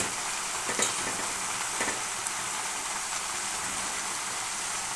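Amaranth greens sizzle in a pan with onions and green chillies, a steady, close frying hiss broken by a few soft scrapes of a stirring utensil, with no talking.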